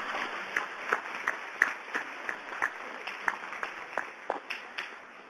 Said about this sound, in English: So now clap, please.